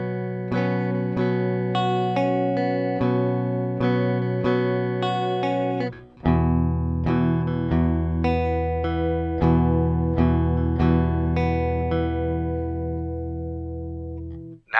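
Clean electric guitar, played for shoegaze and recorded straight into Ableton through a Focusrite Scarlett 6i6, rings out in bright strummed chords and sustained notes, loud and alone with no talking.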